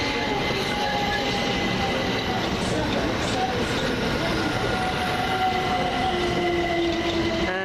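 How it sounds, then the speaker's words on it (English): British Rail Class 377 electric unit 377622 at an East Croydon platform, a steady loud rumble of rolling stock with faint wheel squeal tones, continuous throughout with some background voices. "This looks like 377622. The train now standing at platform"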